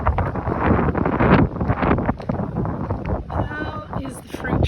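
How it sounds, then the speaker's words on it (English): Outdoors, wind gusts around netted fruit trees, buffeting the microphone in a loud rumbling rush while a person talks over it. "How is the fruit tree netting faring with this wind?"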